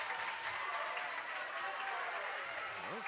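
A Denver crowd at a girls' varsity basketball game cheers and applauds steadily in a gym, a continuous broadband wash of clapping and voices with a brief whistle-like squeak near the end.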